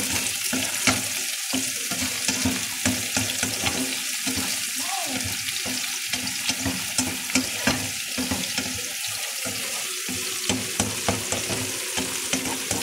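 Eggs for an omelette fry in a pan with a continuous crackling sizzle, broken by light stirring and scraping clatter. Voices talk occasionally over the cooking.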